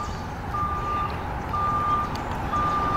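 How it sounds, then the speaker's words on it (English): A work vehicle's engine rumbles steadily at a beach construction and renovation site on Hanlan's Point in Toronto. Three long, evenly spaced warning beeps sound over the fairly loud, close engine noise, with no talking. "I see another vehicle is coming."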